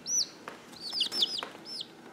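Baby chicks in a brooder, five new layer chicks, give short high rising peeps in a quick scattered series, close and clear, with no talk over them.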